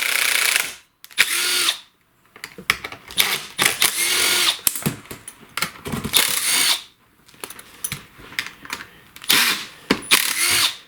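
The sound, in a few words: impact driver with T27 Torx bit removing screws from STIHL chainsaw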